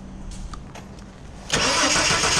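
1983 Ford Falcon XE being cranked during a spark plug test, with faint clicks and low rumble before the engine abruptly catches with a loud burst and settles into a steady, noisy running roar.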